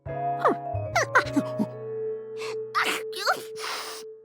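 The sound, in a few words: sneezing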